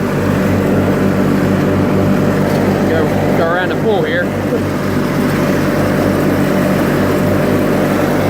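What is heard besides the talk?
1986 John Deere 318 lawn tractor mowing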